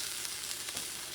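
Meat seasoned with salt frying in a pan, a dense steady sizzle that stays even and close for a brief moment, with no voices.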